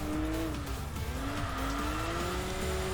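Saab 9-5 Aero in the Enthusia Professional Racing video game, with continuous engine drone rising and falling through revs and tyres squealing at intervals, loud and steady with no voices.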